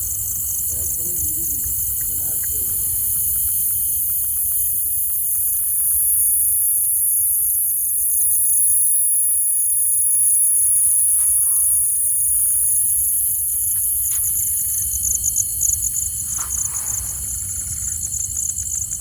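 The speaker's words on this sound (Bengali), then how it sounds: "চারপাশে ঝিঝি পোকার শব্দ আর একটা পাখি ডেকে চলেছে কন্টিনিউয়াসলি" Crickets trill in a loud, continuous, high chorus at night near Talberia lake, among hills and forest, while a bird calls faintly and repeatedly in the background.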